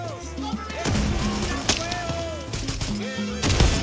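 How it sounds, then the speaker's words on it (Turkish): Far Cry 6 gunfire cracks out in sharp, loud shots amid busy game effects and background music, with a few heavier impacts scattered through the short stretch. "Dibime kadar gelmiş ateş ediyor beni ya"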